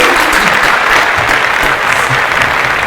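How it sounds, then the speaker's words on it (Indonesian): A talk show audience applauds a guest star named Rizky, steady dense clapping filling the room at close range for a few seconds with no voices over it. "Beri tepuk tangan buat Rizky."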